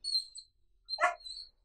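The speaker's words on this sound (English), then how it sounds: "That's my dog that's gone off because somebody's knocked at the door." Indoors, a dog barks at a knock at the door: a short yelp, then one fuller bark after a pause. Both are faint and distant, with quiet between them.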